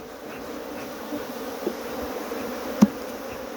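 Africanized honey bees hum in a steady, close swarm at a hive in Guyana, with a sharp buzz rising briefly as one bee passes near.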